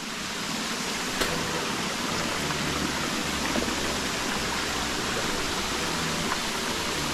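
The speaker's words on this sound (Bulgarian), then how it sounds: "Наподобява на Орфеевия водопад над Девин, но тук има като че ли малко по-голям пад." A waterfall in southwest Bulgaria, with a taller drop than the Orpheus waterfall near Devin, gives a steady, dense roar of falling water that fills the whole scene without a break.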